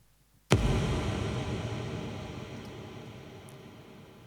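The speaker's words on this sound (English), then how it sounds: "a nice long reverb. It's got 10 seconds" A single sharp hit blooms into a long, washy reverb tail of about ten seconds, with compression bringing the tail out, that slowly fades.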